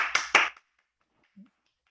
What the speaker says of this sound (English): just give a little bit of a round of applause